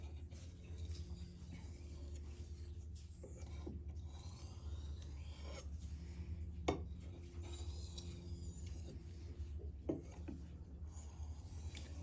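K390 steel knife blade drawn repeatedly across a green compound strop, giving faint steady rubbing and rasping strokes under a constant low background hum, close up and with no talk.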